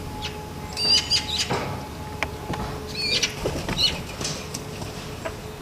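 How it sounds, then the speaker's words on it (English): Young magpies squeak in a tree amid outdoor ambience, with several thin high chirps scattered over steady background noise and a low hum. "Baby magpies wake up the entire tree with their squeaks."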